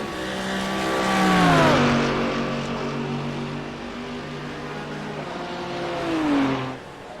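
GT3 race cars, including a Lamborghini, roar past at Daytona, two loud engine notes swelling near and dropping in pitch as they pass, one after another.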